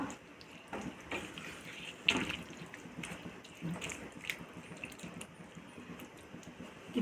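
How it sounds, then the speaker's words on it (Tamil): Water trickles and splashes into a cooking pan while making a Tamil ridge gourd and coconut milk curry, a steady close pouring with a few brief louder drips, no talking. "கொஞ்சமாக தண்ணி சேர்த்துக்கலாம்"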